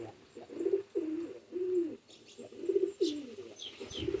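Pet pigeons cooing repeatedly in short rhythmic phrases, close and moderately loud, with light rain starting and faint background chirps.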